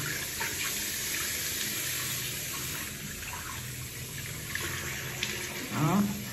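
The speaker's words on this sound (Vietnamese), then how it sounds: "nhớ là các bạn phải rửa toàn bộ bằng nước mát" Cool water runs steadily from a tap while skin is rinsed at a spa, a continuous soft splashing hiss with a brief heavier gush near the end.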